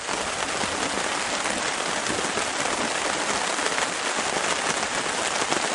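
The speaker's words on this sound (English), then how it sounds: "Well, I'm still in Tent City. Still storming." Heavy rain from a storm pours steadily onto a tent at a canoe-trip campsite, a dense loud hiss of drops drumming on the fabric with no break and no voices.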